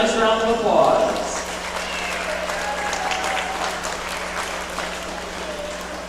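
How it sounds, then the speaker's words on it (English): Audience clapping for a young exhibitor at a county fair sheep and goat show, a moderate, fairly distant patter that follows a short burst of voice and holds steady under a low hum. "Let's give her a nice round of applause."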